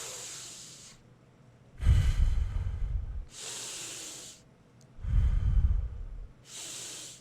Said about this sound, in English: Hold on, let me take a breath.